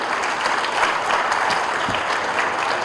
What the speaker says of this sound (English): So a big applause for the youth sitting here.